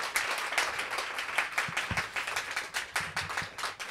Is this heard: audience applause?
yes